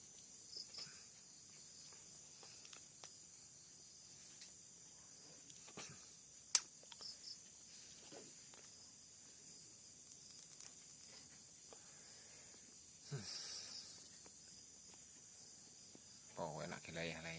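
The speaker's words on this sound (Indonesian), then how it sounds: "Suasana malam. Suara jangkrik krik" Crickets chirp faintly and steadily through a quiet night, a thin high trill running the whole time with occasional soft knocks and rustles nearby.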